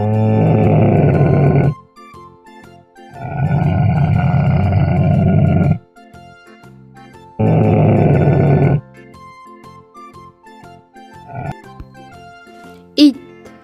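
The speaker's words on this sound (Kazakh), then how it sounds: "Түйе." A camel vocalizes in three long, loud groaning bellows with pauses between them, each lasting a couple of seconds, over quiet background music, followed by a short sharp noise near the end.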